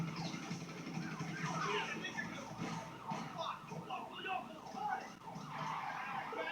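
A wailing police siren in a video game, GTA 5, rises and falls over a busy wash of traffic and engine noise, with some voices mixed in.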